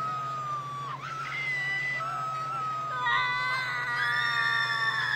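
Screaming voices in the video game Predator Simulator, sustained high wailing cries that slide in pitch and overlap, steady and fairly loud over a constant low hum.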